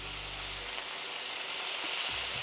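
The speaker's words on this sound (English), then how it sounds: "Once that oil heats up, you wanna start adding your steak" Steak hitting hot olive oil in a pan over medium heat, a dense, loud and continuous sizzle that flares up right after a low hum at the start, with no voices.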